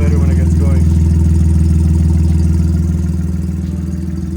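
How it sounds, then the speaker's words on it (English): A GR Yaris three-cylinder engine in a Toyota AE86 idles steadily nearby, a low, lumpy throb with a slightly uneven pulse, settling a little quieter toward the end. "Definitely sounds like a 3-cylinder at idle."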